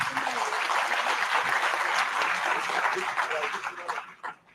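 Applause from an audience at an engineering college session for an award-winning student team, a dense burst of clapping that thins and fades out toward the end, with some voices mixed in.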